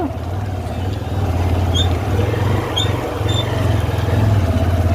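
A motorcycle engine idling steadily up close with a low rumbling drone that rises slightly as the throttle is opened, during a village mechanic's repair of a bike with a starting problem.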